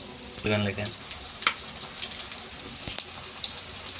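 Bitter gourd pakodi frying in hot oil: a soft sizzling crackle with a few brief bubbling bursts and clicks, close and moderately quiet.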